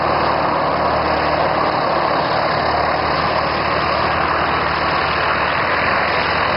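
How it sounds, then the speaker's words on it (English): A 1931 Stinson Detroiter taxiing on grass across the taxiway at an EAA airshow in Arlington, Washington, its engine idling in a steady, loud low drone close by, with no voices. "I see the 1931 Stinson Detroiter taxiing in and turning around the grass across the taxiway"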